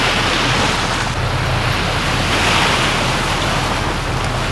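Sea waves wash continuously onto the beach of a Maldives local island, with a broad steady roar of surf and some wind rumble and no voices.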